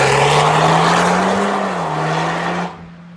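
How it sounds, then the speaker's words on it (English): Launch control in a 2015 VW Golf R fitted with an Invidia Q300 catback exhaust: a loud, sustained exhaust roar holds and rises near the microphone, then cuts off sharply near the end. "Launch control."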